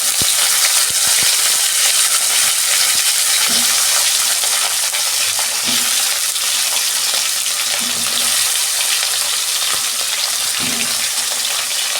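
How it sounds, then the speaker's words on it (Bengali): Potatoes and drumsticks fry in hot oil in a pan for a fish recipe, giving a loud, continuous close sizzle and crackle with occasional soft knocks of a spatula. "আমি ওই তেলেই ডাঁটার আলুটা ভেজে নেব 2 মিনিট।"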